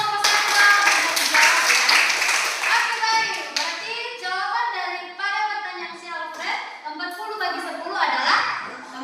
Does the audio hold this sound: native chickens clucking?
no